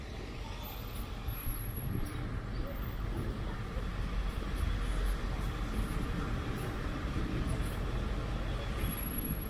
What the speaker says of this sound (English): This is the front of the jeepney buses right here.